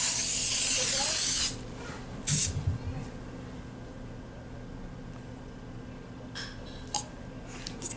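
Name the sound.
spraying oil onto a cupcake pan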